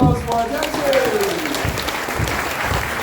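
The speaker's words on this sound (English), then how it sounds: "How about a final round of applause for our dancers?" Audience applause for hula dancers at the Hawaii village of the Polynesian Cultural Center, a sustained burst of clapping from a crowd that starts loud and continues steadily, with a voice over the start.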